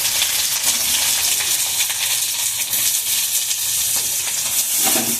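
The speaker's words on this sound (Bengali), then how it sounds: "এই আলুগুলোকে আমি লাল লাল করে ভাজবো" Cut potato pieces fry in hot oil with a loud, steady, dense sizzle and hiss that runs unbroken from start to finish, with no voices.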